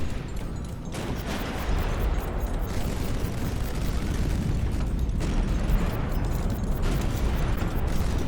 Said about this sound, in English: Let's just launch this missile before I lose it.